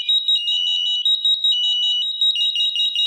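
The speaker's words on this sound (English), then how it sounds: "All other devices will flash and beep." Interlinked SAFE-TECH smoke alarms beep together in a steady, rapid, high-pitched pattern, loud and close, continuing throughout without any voices.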